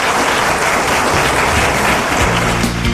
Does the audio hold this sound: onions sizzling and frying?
no